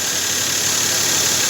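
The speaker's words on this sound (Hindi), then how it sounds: "अभी कुछ भी नॉइज नहीं आ रहा, एकदम स्मूथ चल रही है गाड़ी" Car engine idling smoothly with no intake manifold air leak, a steady, even hum with a faint high whine on top, close up and continuous with no talk.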